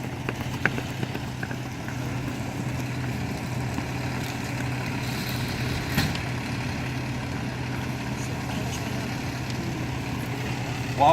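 A fire engine's diesel motor idles steadily at a fire academy demonstration, a low continuous rumble held at an even level throughout, with faint clanks and background activity.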